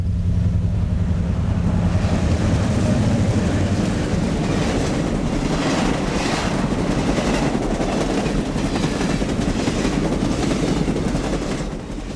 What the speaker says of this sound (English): The westbound Empire Builder North Coast Limited rolls along the Mississippi just north of Stoddard with 4 E's coupled elephant style.